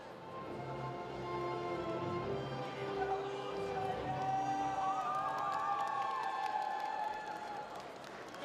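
A crowd at a university beauty pageant awards ceremony applauds and cheers steadily for several seconds, with whoops and shouts rising over a continuous wash of clapping at moderate distance.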